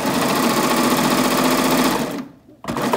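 A serger sewing machine stitches a neckline on a tourist tie top, running loud and steady with a fast mechanical whir, then briefly stopping before starting up again.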